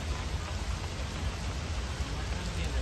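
Dense, steady hiss of heavy rain pouring down in Pune, a constant broadband wash with no pauses.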